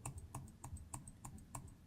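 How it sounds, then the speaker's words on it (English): A computer keyboard's right arrow key is tapped repeatedly in an even rhythm, about eight quick, faint, close clicks in under two seconds with no talk. "Then we will go with the keyboard on the right arrow"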